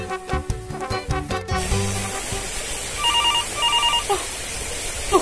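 After a burst of music, a telephone rings twice in short trilling bursts over a hissing background, moderately loud and close.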